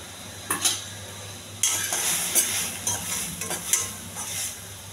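Boiled peas with chilli powder, turmeric and salt being stirred in a hot tempering pan, several close scraping strokes over a steady soft sizzle, with no talking.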